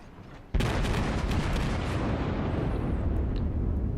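A Fuso battleship in World of Warships fires a naval shell salvo: one sudden loud boom that rolls into a long, roaring rumble and slowly fades, heard alone.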